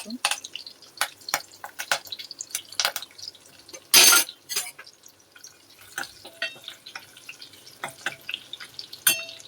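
Garlic dropped into hot oil with curry leaves sputters in irregular crackles and pops, one louder burst of sizzling partway through, over faint background and occasional soft kitchen clinks.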